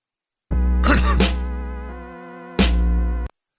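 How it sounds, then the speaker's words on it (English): A single harsh, loud cough burst up close, followed after a pause by a second shorter throat-clearing cough. "I had to cough"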